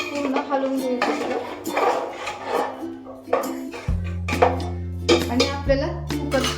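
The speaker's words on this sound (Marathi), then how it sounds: "पूर्ण हलवून घ्यायचं" A spoon stirs a vegetable mixture in a metal pot with boiling water added, making repeated close scraping clinks against the pot, while a voice is heard faintly underneath.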